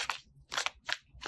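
Tarot cards being shuffled by hand, a new deck just unboxed, giving three quick crisp riffling bursts in a steady rhythm, close and alone with no talk.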